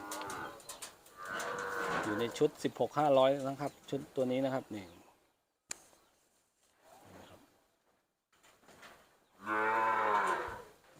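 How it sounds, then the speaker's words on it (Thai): Cattle moo at an open-air livestock market in Tak, Thailand, with several loud drawn-out lows rising and falling near the listener, while someone talks between and over the calls. "ตัวนี้ก็จะน่าจะเป็นวัวท้องนะครับนี่"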